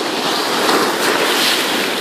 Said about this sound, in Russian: О, волна меня окатила.